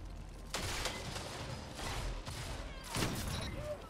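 Several bursts of gunfire in Destiny 2 crack out in quick succession over a busy, noisy background, fairly quiet overall.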